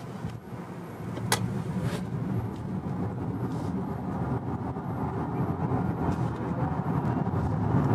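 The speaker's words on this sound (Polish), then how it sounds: "Spróbujemy sobie teraz w trybie normal, w trybie EV zrobić przyspieszenie od 0 do setki." Omoda 9 Super Hybrid car accelerating from 0 to 100 km/h in electric mode, a steady low road and tyre roar heard from inside the cabin that builds gradually with speed, without a combustion engine note.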